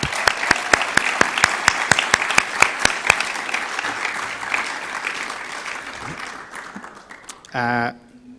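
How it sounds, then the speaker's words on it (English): Graduates and guests at an RCSI class of 2020 and 2021 reunion give a long round of applause, with sharp individual claps standing out over dense crowd clapping that fades gradually, followed by a brief tonal sound at the close. "can we have a long overdue round of applause for the classes of 2020 and 2021?"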